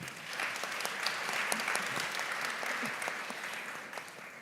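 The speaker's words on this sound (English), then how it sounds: "let's give her a round of applause" Steady applause from an audience welcoming a female panelist at a Gen Z civic forum in Georgia, a dense patter of many hands clapping evenly for several seconds, moderately close and with no talk over it.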